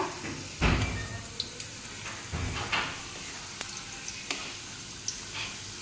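Sliced onions frying in oil for biryani beresta, with a soft continuous sizzle broken by a few louder scraping stirs and light clinks, alone with no voices.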